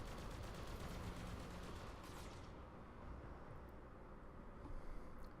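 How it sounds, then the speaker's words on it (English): Mech weapons fire in the BattleTech game, a loud continuous barrage of dense gunfire and blasts with no break, easing only slightly toward the end. "Engage all weapon systems and fire."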